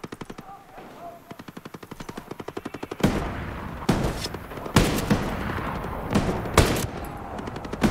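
Unsilenced automatic weapon fire in the video game Ghost Recon Breakpoint: rapid bursts of gunshots, quieter at first, then louder sharp cracks and booming reports in repeated volleys.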